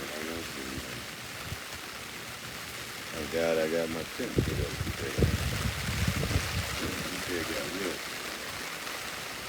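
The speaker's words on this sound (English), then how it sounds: "But we got the rain coming down." Rain pattering steadily outside a smoker tent on a Florida day, a constant wash of drops under someone speaking close by.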